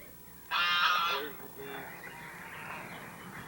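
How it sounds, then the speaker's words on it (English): A loud, harsh honking call from a nearby goose, followed by fainter squawks and background chatter outdoors. "Mr. Smith, about how many geese do you have at this present time?"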